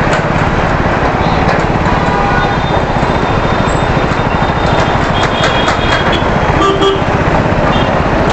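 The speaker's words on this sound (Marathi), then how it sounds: "बघू शकता तुम्ही ट्रॅफिक ट्रॅफिक ट्रॅफिक." Heavy midday road traffic in Mumbai around Chembur, heard from a moving scooter, makes a loud, constant roar of engines and wind. Scattered horn toots cut through it, and faint voices sit underneath.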